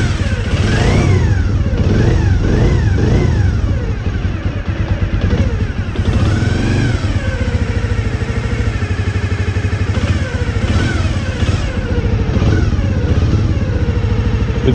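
A Honda Dream 50 motorcycle engine runs steadily at close range, loud and continuous, its pitch rising and falling slightly as it settles into idle after an oil change, with no talking.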